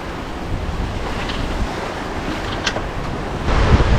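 Steady wash of ocean swells around a sailboat running downwind on a broad reach, about eight-foot seas, heard as broadband rushing water and wind buffeting the microphone, swelling louder near the end.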